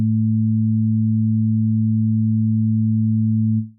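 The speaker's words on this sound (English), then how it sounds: "now we have a sine wave playing at 110 Hertz and one playing at 220 Hertz" Two steady, pure low sine tones at 110 Hz and 220 Hz sound together without change, then cut off abruptly near the end.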